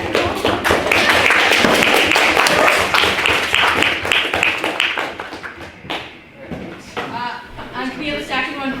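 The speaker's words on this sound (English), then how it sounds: "And can we have a second round of applause for Call." Applause from a debate audience, a loud dense stretch of clapping that holds steady for several seconds, then thins and fades while a voice starts talking near the end.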